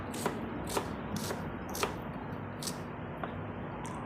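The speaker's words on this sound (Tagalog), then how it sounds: "magagayat na muna ako ng sibuyas at saka luya" A knife slices onion and ginger on a board, light rhythmic taps about every half second, close but soft over a steady background hiss, with no talking.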